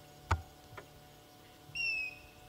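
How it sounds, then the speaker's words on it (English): A grey hornbill calls on a safari at sunset in the Sabi Sand reserve: a brief, clear whistled note rings out near the end after a couple of soft knocks, in an otherwise quiet bush setting. "That's a very special bird called a grey hornbill."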